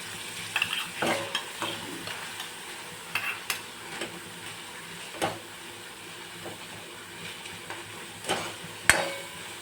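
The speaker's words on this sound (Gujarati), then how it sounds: "આપણે બાફેલું બટેકું એડ કરશું મેશ કરેલું બધું જ આપણે મિક્સ કરી દઈશું" A spoon scrapes and stirs mashed boiled potato into a cooking mixture in a pan, giving irregular close-up knocks and scrapes over a faint sizzle, with no talking.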